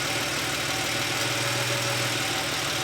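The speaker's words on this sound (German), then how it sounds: "So, müssen wir den Motor wieder laufen lassen." A Porsche 911 Carrera 3.2 flat-six idles steadily at around 800 rpm, a continuous even mechanical hum with no voices.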